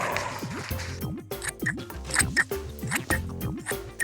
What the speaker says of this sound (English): When you're happy with your circles, cut them out.